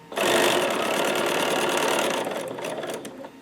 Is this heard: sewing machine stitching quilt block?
yes